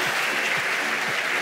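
Audience applause at a live MBA show event, dense continuous clapping from a crowd, steady and fairly loud throughout the short stretch.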